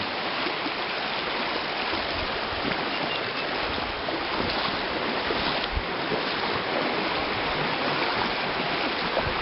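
An old rocky creek rushes over boulders below a 15–20 foot bank, a constant broadband roar of flowing water, steady and fairly close, with no voices.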